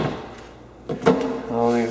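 A kitchen cabinet door in a vacant house is pulled open with a short wooden knock and scrape, fairly close, while someone talks over it.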